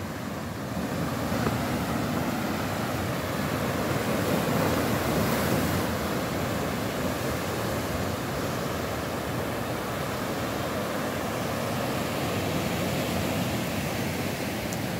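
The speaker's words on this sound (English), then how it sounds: "The mighty Atlantic Ocean rolling in." Atlantic Ocean waves roll in against a rocky coastline near Llandudno, Cape Town, a steady, broad wash of surf with some wind noise over the microphone, continuous and fairly loud with no talking.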